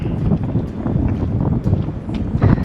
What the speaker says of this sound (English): Now we're starting to get those 20 knot gusts that last 10 or 20 seconds.